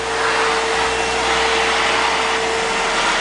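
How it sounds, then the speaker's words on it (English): A commercial floor vacuum cleaner runs loud and steady at close range, a constant broadband roar with a fixed motor whine and no pauses or talking. "it's important to have this type of vacuum when you are cleaning commercially, because it doesn't scratch the floor"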